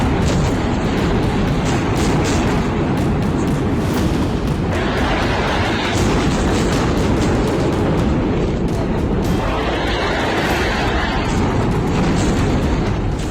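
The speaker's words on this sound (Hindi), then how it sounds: "कई मील दूर तक धमाकों की आवाज जाती रही।" Loud, continuous booming and rumbling from bombing explosions in Gaza, heavy blasts rolling into one another with no pause, carrying for miles.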